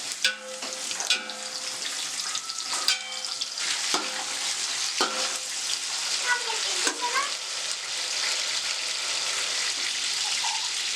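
Bay leaves fry in hot oil for an Andhra-style vegetable pulav, giving a continuous bright sizzle. Sharp utensil clatters and stirring knocks come early on, and the frying hiss grows steadily denser afterward.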